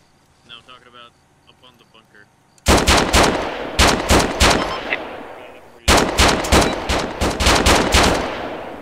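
Rapid bursts of automatic gunfire from a shooter video game, two long volleys of loud, evenly spaced shots each stopping abruptly, preceded by quiet talk before the first burst.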